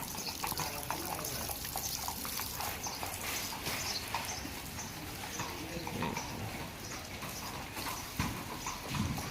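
Polo horses just back from a stick-and-ball session at a Thai polo field, hooves clip-clopping steadily while water sprays over their legs, the hoof beats and running water mixed continuously and fairly close.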